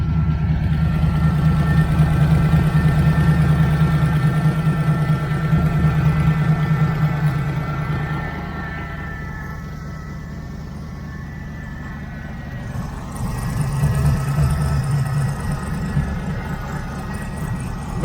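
A 1980 Camaro Z28 V8 idles close by with a steady low rumble, carrying a faint ringing tone that comes and goes, dipping partway through before picking back up.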